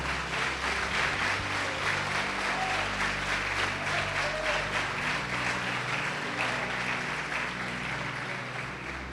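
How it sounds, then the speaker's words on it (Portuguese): Church congregation applauding, a dense, continuous clapping that fills the room for about nine seconds without a break. "Quem pode aplaudir o Senhor Jesus por isso"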